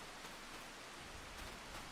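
Steady rain falls in Farming Simulator 25, a soft, even hiss of drops on the ground that continues without a break and stays fairly faint.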